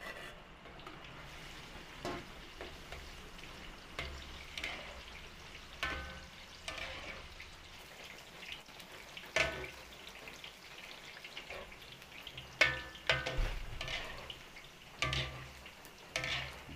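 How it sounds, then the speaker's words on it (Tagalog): Steady sizzling and crackling of bananas frying in hot oil, with occasional sharper pops and clinks from stirring, no one speaking. "Tapos, prito rin po natin itong ating saging."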